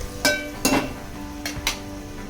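A spoon scraping and knocking against a pan while chopped tomato and green chillies are stirred into spices, four sharp metallic clinks in two close pairs, near and clear.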